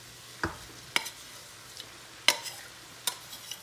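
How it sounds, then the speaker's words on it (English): Rice is stirred into a seafood sauce in a pot, with a soft sizzle underneath and four or five distinct scraping clacks of a spoon against the pot, spaced irregularly and fairly close. "Give it a quick stir."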